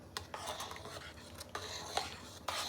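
A spoon stirring and mixing tomato bath in a pot, with soft repeated scraping and clinking against the metal rim in a steady irregular rhythm, close and fairly quiet.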